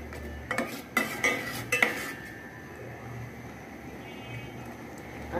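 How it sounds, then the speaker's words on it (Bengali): Spices being stirred and fried in a pot while cooking rice, with a run of sharp metal spoon scrapes and clanks against the pot in the first two seconds, then a quiet low sizzle. "মশলাগুলো ভালো করে কষিয়ে নিব"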